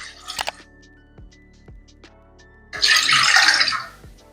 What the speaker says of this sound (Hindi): दाल को उबालने के लिए पैन में डालेंगे 2 कप पानी,